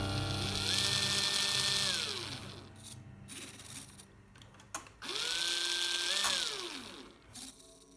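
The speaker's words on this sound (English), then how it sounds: "the servo changed it from the low gear to the high gear" A small electric servo on a WPL two-speed RC gearbox, fitted to an MN90 Land Rover model, whirs in two brief rising-and-falling motor sweeps, each lasting about two seconds with quieter clicks between them, no speech.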